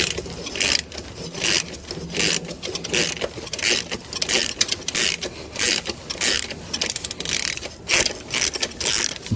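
A ratchet wrench loosening catalytic converter bolts on a Chevrolet Cruze during engine removal, loud rapid clicking in repeated strokes separated by brief pauses, close up with no talk.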